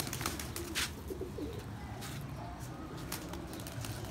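Pigeons of the Badshah breed, young birds among them, cooing softly in a loft amid steady low background noise, with faint calls scattered across the few seconds.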